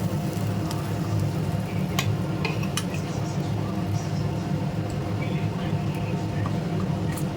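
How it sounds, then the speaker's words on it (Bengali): Pieces of catla fish fry in hot oil, making a dense, continuous sizzle that stays loud and even, with a few sharp clinks from the pan. "এসব মাছ ভাজা"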